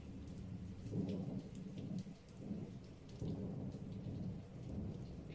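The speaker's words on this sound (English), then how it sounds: "All I hear is rain." Steady rain falls with several low rumbles of thunder rolling through at a moderate distance, the storm noise continuous and no voices present.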